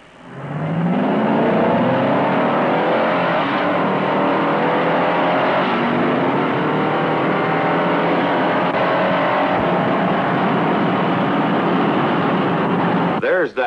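A 1963 Chevrolet Impala and a 1963 Ford Galaxie accelerating side by side in a race, a loud, continuous engine roar with rising pitch that holds steady and close, under a narrator's voice.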